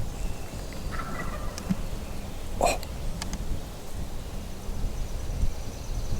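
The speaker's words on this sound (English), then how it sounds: "one of them just gobbled, and he's much closer" Wild turkey gobbling in Mississippi woods, a single short rattling gobble at middle distance over steady outdoor background noise.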